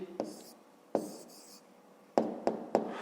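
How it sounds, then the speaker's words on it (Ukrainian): A pen writes an answer for a fifth-grade math problem, heard as a few short, sharp scratchy strokes with quiet gaps between them, close and fairly clear. "Я тут запишу, пишемо відповідь"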